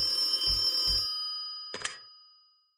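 Telephone ringing in a horror video game, a bright electronic ring that sounds steadily for about a second, then a short louder burst after a pause, with no talking.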